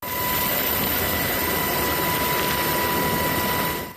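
A Black Hawk helicopter hoists trapped miners during a mine rescue in the Heren mining area of Hualien, making a loud, steady rotor and engine drone that holds evenly throughout.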